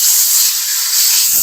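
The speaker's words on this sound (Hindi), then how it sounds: "फ्लेम को ऑफ कर देंगे और जो कुकर का प्रेशर है वो हम सारा निकाल देंगे।" A pressure cooker vents a loud, steady hiss of steam up close, holding constant the whole time with no pauses.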